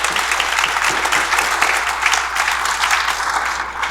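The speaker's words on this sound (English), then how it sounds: "So one more round of applause for the executive committee." Sustained audience applause at a school district hall of distinction induction ceremony, honoring the executive committee: a dense, even roll of many hands clapping, loud and continuous throughout.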